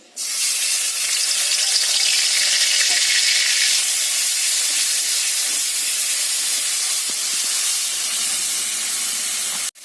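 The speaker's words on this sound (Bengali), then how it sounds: "পেঁয়াজটা বাটা ভাজা হয়ে গেছে" Onion paste sizzles and hisses steadily in hot oil, a close, continuous frying sound with no voices.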